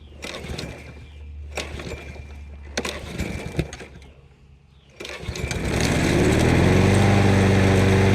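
A self-propelled gas lawn mower gets a few sputtering pull attempts with gaps between, then catches and runs steadily, loud and near, settling into a constant engine drone.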